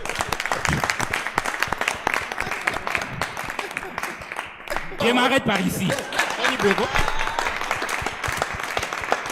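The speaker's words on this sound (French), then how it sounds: "Est-ce qu'on peut applaudir pour les foufous?" Studio audience at a French-language television show claps steadily and loudly throughout, a dense patter of hands, while someone speaks briefly over the applause midway.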